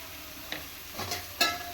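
Goat brain being sautéed in a pan gives a faint sizzle with a few soft scraping stirs, brief utensil clicks standing out near the middle and end.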